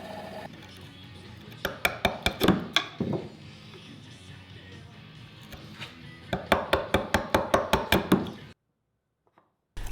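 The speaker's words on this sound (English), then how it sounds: "used those as references for when I was chiseling out at this angle" A chisel is struck to pare angled cuts for the bridle joints of a wooden stool. Two close runs of sharp mallet-on-chisel knocks have a quick, steady rhythm and a short pause between them, and the sound ends in near silence.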